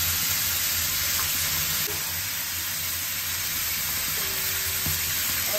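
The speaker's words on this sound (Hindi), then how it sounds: "इन सब चीज़ों को डाल के और अच्छी तरीके से मैं इसको फ्राई कर लूँगी।" Chopped chicken breast sizzling in a pan with salt, red chili flakes, cumin and coriander, a steady close, loud frying hiss with faint stirring scrapes, no talking.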